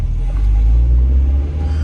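A car rolls past at a Philadelphia street intersection, a steady low engine rumble close by that stays even for the whole short stretch, with no voices over it.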